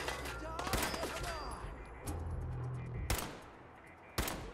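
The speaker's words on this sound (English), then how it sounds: "Shooting from up there." Gunfire in the video game Fallout 4: a dense burst of rapid shots at the start, then two sharp separate blasts near the end, fairly quiet overall with a voice partly over it.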